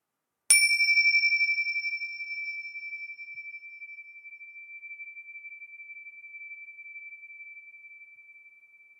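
Tingsha bells strike once, ringing out bright and clear, then the pure tone lingers and fades slowly into silence.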